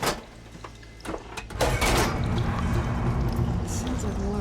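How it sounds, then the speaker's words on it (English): Machinery in the Horizon Forbidden West game switches the water flow: a few mechanical clunks and knocks give way to a steady, loud rush of flowing water that continues to the end. "Sounds like the water's switched."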